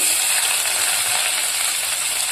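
Chopped onions hit hot oil with mustard seeds and cumin and sizzle in a loud, steady, close hiss that holds without a break.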